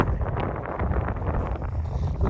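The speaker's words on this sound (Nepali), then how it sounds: "यो वाला हावा त फेरि सबै चल्दो रहेछ है मान्छे उडाउनु खाले चल्दो रहेछ" Strong mountain wind on a trek in Dhorpatan, Nepal, roars and buffets the microphone continuously, a dense rumbling rush with gusty surges throughout.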